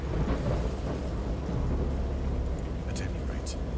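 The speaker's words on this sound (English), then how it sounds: "I know that I heard bells of thunder and other tones which nature utters only in her wildest moods." In the video game Dagon, a stormy scene holds continuous heavy rain and deep rolling thunder as a dense, steady roar, with a few brighter splashes or crackles near the end.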